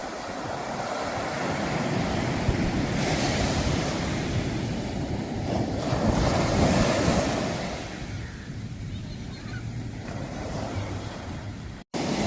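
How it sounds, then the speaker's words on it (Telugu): Big ocean waves break and wash up on Malibu's Zuma Beach, a broad, continuous surf roar that swells and ebbs over about twelve seconds, with some wind buffeting the microphone. "పెద్ద పెద్ద అలలు."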